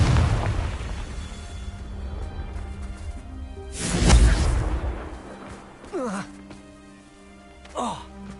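A Confringo fire spell explodes in the video game Hogwarts Legacy, a deep booming blast that swells around the midpoint, with game sound and a voice around it.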